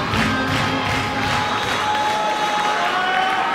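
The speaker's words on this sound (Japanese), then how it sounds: "険しい道のりを踏破してきた彼らにこの一年に拍手を送りたいと思います。" Arena crowd at an All Japan wrestling event applauding and cheering for the athletes, a dense, continuous roar of clapping and crowd noise throughout.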